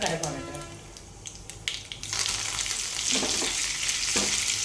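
Cumin, mustard seeds and split lentils (urad and chana dal) sizzle and crackle steadily in hot oil for a South Indian dosa chutney tempering, close and continuous, with brief stirring clinks and faint background voices early on.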